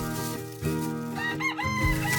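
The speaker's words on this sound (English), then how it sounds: "I hear a rooster." A farm rooster crows in a long, wavering harmonic call near the listener, loud and clear over a continuous tonal background.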